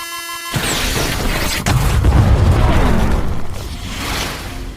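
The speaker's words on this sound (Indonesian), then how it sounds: "Hub tersebut meledak dan merusak semua tanaman kentang." A pressurized habitat hub on Mars bursts in a film scene: a sudden loud broadband blast, then a heavy rumbling roar that slowly fades, with no talk over it.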